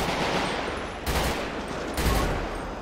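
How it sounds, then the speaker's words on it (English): Rifle shots in GTA 5 during a police shootout: two sharp, loud broadband blasts about a second apart over a dense, constant game din. "Oh, shots fired, shots fired, shots fired."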